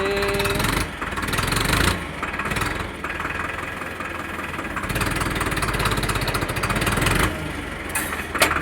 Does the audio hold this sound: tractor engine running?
yes